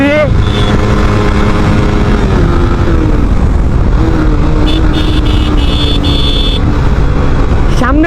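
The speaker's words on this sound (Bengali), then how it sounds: "এই যে আমাদের সব বাইক সব টানে বের হয়ে যাইতেছে।" Several motorbikes ride out together on a road, their engines droning loudly and continuously with passing traffic and rising and falling revs, under steady wind noise.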